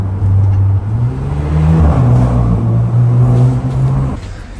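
A Hyundai Elantra N-Line with a louder aftermarket exhaust drives along, its deep steady engine drone loud and continuous, with small pitch changes as the revs shift, heard from inside the car with no talking.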